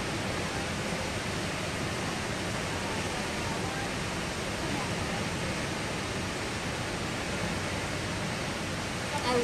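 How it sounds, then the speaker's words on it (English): Rainbow Falls in Hawaii pours steadily, a broad even roar of falling water heard from nearby, constant and unbroken with no voices over it. "I love waterfalls. I could sit here and stare at this thing all day."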